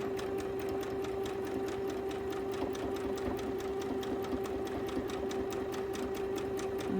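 A sewing machine stitches a quilt with a steady, fast mechanical whir and rapid needle clatter, fairly quiet and continuous with no voices over it.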